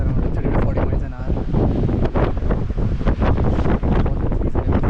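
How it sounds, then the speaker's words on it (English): Strong gusts of 30 to 40 mph roar across the microphone at the Grand Canyon South Rim at sunset, a loud, continuous buffeting rush that fills the whole recording with no clear talk. "Very windy. Wind speed is around 30 to 40 miles an hour."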